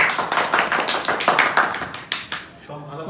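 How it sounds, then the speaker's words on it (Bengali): A group of people claps at a bitter gourd juice drinking contest, a lively burst of many overlapping claps that fades out near the end, with voices mixed in. "সবাই আমরা একটু হাততালি দিই"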